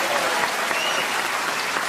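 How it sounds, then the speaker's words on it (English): Studio audience applause at a panel game show, a dense steady wash of clapping filling the whole stretch at even loudness, with no voices over it. "She should have a round of applause"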